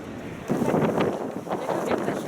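Wind blows outdoors in Vienna, buffeting the microphone in gusty, breathy surges of fairly loud rushing noise over a short stretch.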